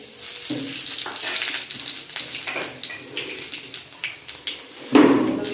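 Panch phoron five-spice seeds frying in hot oil in a kadai, a close, steady crackling sizzle with light clattering stirs and a sharper, louder burst of sizzle near the end.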